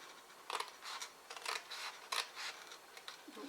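Scissors cutting paper while a gift box shaped like an Easter egg is made: a series of crisp, close snips repeating at a steady pace, soft and without talk.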